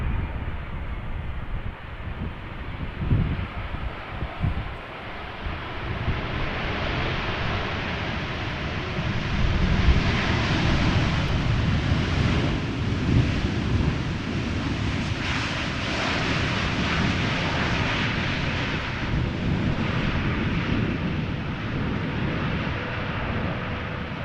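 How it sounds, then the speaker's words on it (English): A KLM Boeing 787-9 Dreamliner arriving at Amsterdam Schiphol from Taipei in gusty crosswind, its jet engines a steady, loud broadband roar that holds throughout, mixed with wind buffeting the microphone. "This is KLM flight 808 arriving from Taipei, 7879 Dreamliner"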